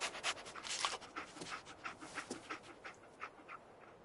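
Dogmeat, the dog companion in Fallout 4, pants in quick rhythmic breaths with soft whimpers, close and moderately loud over faint game ambience.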